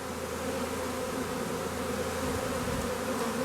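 A swarm of bees clusters on a branch near a hive after swarming, a dense continuous buzzing drone heard close and steady throughout with no voices.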